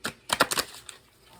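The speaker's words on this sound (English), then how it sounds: "I'm just going to give a shuffle." Tarot cards are shuffled by hand, giving a quick run of crisp, papery clicks over under a second, close and fairly quiet, followed by one faint tap.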